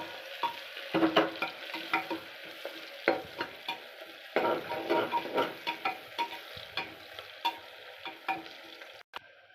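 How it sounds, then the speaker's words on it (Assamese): Onion fries in a pan on a home stove while a spatula stirs it, giving a steady sizzle broken by repeated scraping and clicking strokes at an uneven pace, close and fairly quiet with no talking. "অলপ সময় পিঁয়াজটো ভাজি ল'ব, পূৰা ধুনীয়াকৈ পিঁয়াজটো ধুনীয়াকৈ ভাজি ল'ব লাগিব"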